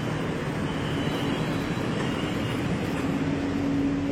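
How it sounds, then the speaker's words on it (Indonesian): An LRT Jabodebek train pulls into Pancoran station platform, a continuous steady rumble and whine of rolling wheels and motors with a faint high tone appearing near the end. "KRL LRT Jabodebek tujuan Jatimulya sudah masuk ke jalur 1 Stasiun Pancoran"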